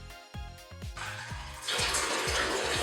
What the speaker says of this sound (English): If we use a thinner hose, the water slows down.